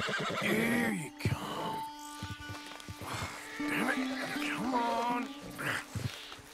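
A horse in Red Dead Redemption whinnies and snorts repeatedly at close range while someone speaks softly over it, trying to calm the animal.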